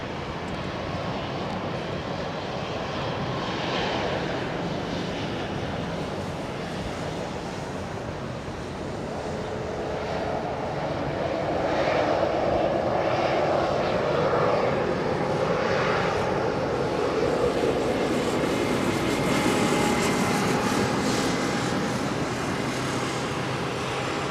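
An early American Airlines Boeing 777-200 arriving on runway 27R at London Heathrow, its engines a broad, steady roar that grows louder midway and holds, with wind noise in the background.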